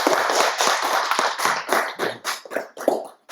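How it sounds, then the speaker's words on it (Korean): Audience applause for a presenter at a Seoul academic seminar, a loud burst of clapping that thins toward the end into scattered separate claps. "하현주 선생님 박수 한번 다시 한번 부탁드립니다"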